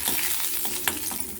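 Cinnamon and cloves frying in hot oil for a potato kurma, giving a steady close sizzle with a few soft clinks and stirring scrapes.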